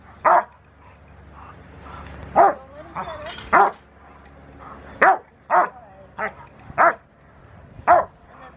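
A Rottweiler puppy gives about nine sharp, high barks spaced irregularly during protection training, with a few brief words spoken between them.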